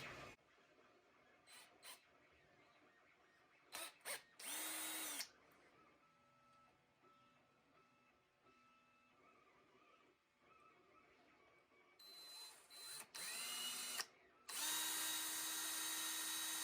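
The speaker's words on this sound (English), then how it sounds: "Get a little tiny drill bit in there." A little drill with a tiny bit bores into a model tree base, giving sharp, high whining bursts: a few short spurts early, a quiet stretch, then longer, louder runs near the end.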